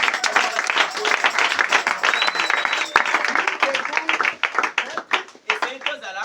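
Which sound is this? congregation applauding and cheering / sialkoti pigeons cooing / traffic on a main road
congregation applauding and cheering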